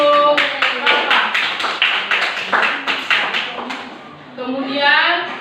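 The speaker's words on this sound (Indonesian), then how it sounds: "Beri tepuk tangan dulu untuk Bapak." Schoolchildren in a classroom clap their hands, a burst of sharp, uneven claps close by that fades into children's voices toward the end.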